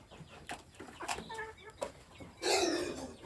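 Three-month-old free-range farm chickens cluck and cackle close by, a run of short repeated calls that builds into louder, busier squawking near the end.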